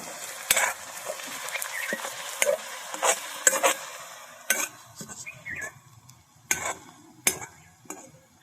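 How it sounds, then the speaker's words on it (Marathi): Onions fry in a pan over a wood-fired stove, with a steady soft sizzle broken by repeated sharp scrapes and clinks of a spoon stirring against the metal. "सगळ्यात पहिल्यांदा कांदा तरी भाजायला पाहिजे."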